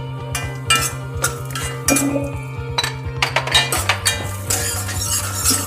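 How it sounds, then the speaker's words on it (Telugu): Almonds tossed into hot ghee in a pan are stirred with a metal spoon, giving repeated clinks and scrapes against the pan over a steady low hum, close and fairly loud. "ఈ నెయ్యిలోనే బాదం పప్పు వేస్తున్నాను"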